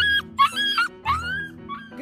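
A dog whimpers and yips in short, high, wavering whines, close by, with a few breathy gaps between the cries.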